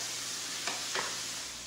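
Beef for stroganoff sizzles quietly in a pan, with two brief scraping stirs about a third of a second apart. No one speaks.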